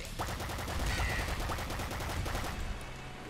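The bouncer gun firing in the video game Nuclear Throne, a rapid string of sharp synthetic shots with ricocheting pings, steady and loud throughout.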